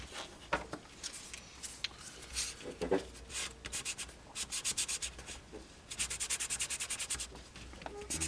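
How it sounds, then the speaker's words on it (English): Close, quiet rubbing of sandpaper along a cut edge to knock off the burr while building Roadrailer rear axle supports, in uneven back-and-forth strokes, some short rapid bursts of rhythmic scraping. "Sand this edge down a bit, get rid of any burr."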